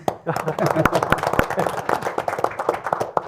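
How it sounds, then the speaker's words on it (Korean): Guests at an agreement-signing ceremony clap, a scattered burst of hand claps of uneven rhythm, with people talking over and between them. "박수도 한번 해요."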